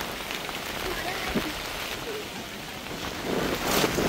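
Heavy rain pours steadily at an open bullock cart race ground, a dense continuous hiss that swells louder toward the end, with faint voices mixed underneath.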